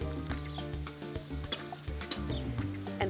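Chopped sweet orange pepper sautés in olive oil and butter in a pan on a grill, giving a soft continuous sizzle with light stirring scrapes and occasional pops, and no talking.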